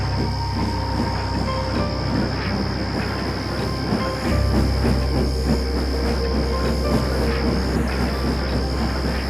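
Steam locomotive moving along rails in an animated railway story, with a steady rumbling run and rhythmic rail clatter throughout, loud and close, with no talk.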